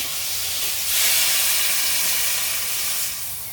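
Water poured into a hot pan of frying potatoes sets off a loud, broad steam hiss that swells after a second and holds steady for several seconds before easing slightly.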